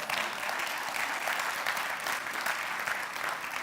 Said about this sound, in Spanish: Denle un aplauso al Señor por eso.